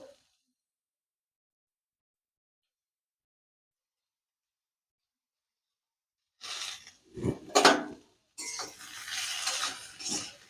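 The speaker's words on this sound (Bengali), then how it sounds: "নেড়ে চেড়ে একটু মিশিয়ে নিচ্ছি।" Vegetables in a pan with salt and turmeric get stirred, giving a few short scraping, clattering bursts after a long silence and then a denser stretch of stirring near the end.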